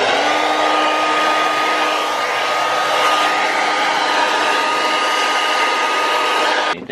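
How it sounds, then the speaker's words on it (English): An electric air duster blows dust and debris off a desk crowded with cables, a continuous loud close-up whooshing hiss that runs steadily for several seconds, then cuts off abruptly at the end, with no talking. "I'm just going to use the duster"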